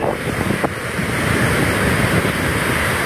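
Heavy, rushing water of the swollen Progo river below an emergency embankment, a dense continuous roar close by with wind buffeting the microphone throughout.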